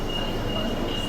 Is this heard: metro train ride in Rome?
yes